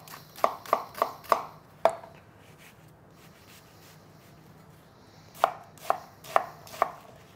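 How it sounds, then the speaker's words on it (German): A knife chops an onion into coarse cubes on a cutting board, a quick run of four sharp chops, then a single one, a pause, and another burst of four crisp, close strikes. "und dann ganz grob einfach ein paar Würfelchen, bisschen gröber, weil wir es einfach gröber brauchen"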